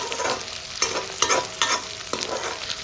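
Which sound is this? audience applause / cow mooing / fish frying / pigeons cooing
fish frying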